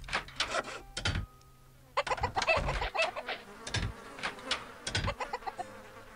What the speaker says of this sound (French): Les poules ont pondu, tout le monde va chercher à manger du coup.